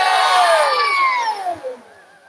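An audience at a Quran and kitab reading competition cheers and shouts loudly together, a sustained roar of many voices that swells and then gradually fades toward the end.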